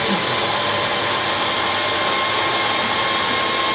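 A fan blows air into a waste-oil burning stove with a blue flame, a loud steady whirring roar that holds constant throughout.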